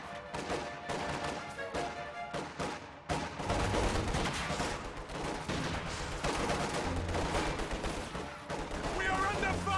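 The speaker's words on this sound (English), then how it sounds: "We are under fire." Dense, continuous gunfire in a video game battle between squads fighting over a building, with rapid overlapping volleys and bursts close up throughout.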